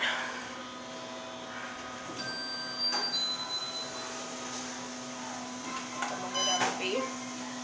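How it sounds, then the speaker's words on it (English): A constant fan whirs inside the cab of an Otis Series 5 hydraulic elevator at a YMCA, a steady hum with faint high whine, holding level under occasional clicks and light sounds throughout. "This has the annoying Series 5 with the annoying fan on."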